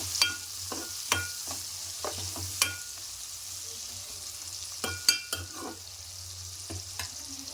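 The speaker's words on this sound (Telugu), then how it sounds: "ఆనియను కొంచెం కలర్ రావాలండి ఫ్రై కావాలి" Chopped onions fry in a pan for a cauliflower egg curry, a soft low sizzle under a handful of sharp spoon taps and scrapes spaced unevenly through the stretch, fairly quiet and without speech.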